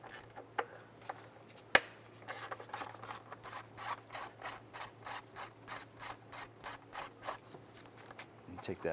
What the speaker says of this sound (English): Now using a 10mm socket, we want to go ahead and remove this bolt right here.